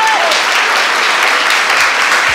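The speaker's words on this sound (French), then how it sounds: "applaudissements pour Hervé déjà." Loud, continuous audience applause, a dense wash of many hands clapping without pause, close and steady throughout.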